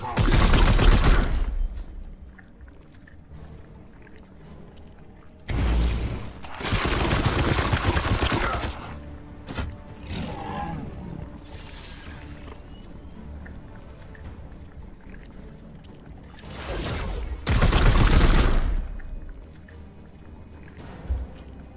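Gunfire and support fire in Warhammer 40k: Chaos Gate - Daemonhunters, heard as loud bursts of rapid shots and blasts in three separate clusters, with quieter game ambience between them and a voice speaking at times.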